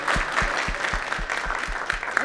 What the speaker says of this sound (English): The rest of us will clap.